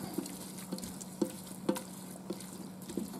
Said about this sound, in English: Then I'm going to mix that around, and that should be good.